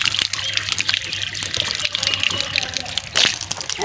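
Water is poured out for drinking, making a close, continuous splashing gush with brief louder surges, while people talk nearby.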